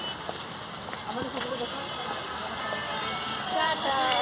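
Light rain falls at an eco park at night as a soft, steady patter on surfaces, with faint voices murmuring in the background.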